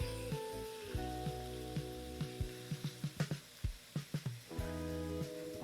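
Beef browning in a pan for crockpot beef stroganoff, with a steady low sizzle and frying crackle throughout, punctuated by a run of short sharp knocks and scrapes, near and moderately loud, no talk.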